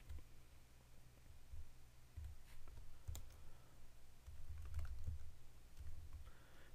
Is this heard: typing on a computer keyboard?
yes